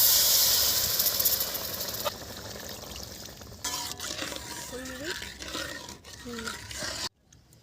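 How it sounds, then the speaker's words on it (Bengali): Water poured into a frying egg korma masala in a pan gives a loud burst of steamy hissing that gradually dies down, then a voice talks over the fading sizzle. "কষা হয়ে এসছে, এবারে জল ঢেলে দেবো।"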